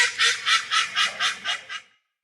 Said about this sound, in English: If you guessed it was a duck quacking